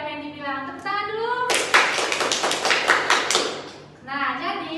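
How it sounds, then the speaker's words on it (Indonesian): Students in a classroom clap for classmates in a short burst of close, brisk hand clapping lasting a few seconds, with a voice speaking before and after. "Tepuk tangan dulu"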